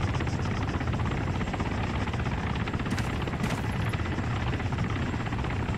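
A Hind attack helicopter patrols in a military video game, its steady rotor thrum loud and continuous throughout with no speech.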